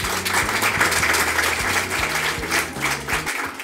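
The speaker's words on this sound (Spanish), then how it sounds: "dar de esta forma comienzo con un aplauso a la muestra" Audience applause at the opening of a photography exhibition, a dense, steady clapping from a crowd that holds evenly across the few seconds over faint background music.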